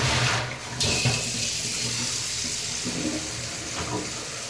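Leafy greens being washed under a running kitchen tap, a steady rush of water into a vessel with splashing and shifting as the flow changes.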